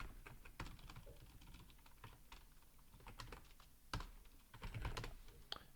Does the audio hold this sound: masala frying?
no